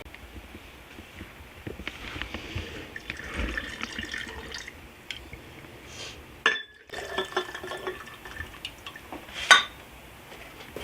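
Boiling water is poured over hojicha tea in a quiet, faint trickle, with soft clinks of glassware and a sharper clink near the end.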